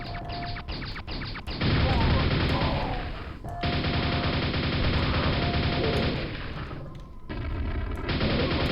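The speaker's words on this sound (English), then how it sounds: "Nail gun acquired." Loud, rapid streams of nail gun fire in Quake, crashing and rattling in long bursts and broken by short pauses.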